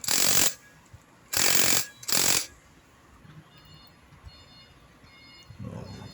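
An impact wrench tightens the oil pump or clutch drum nut on a Honda XR200 motorcycle, firing three loud, close rattling bursts separated by short pauses, with quiet workshop background between them.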